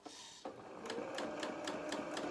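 A sewing machine stitches along the edge of a trouser pocket, its needle hammering in a steady rapid rhythm that starts abruptly and runs on close and clear.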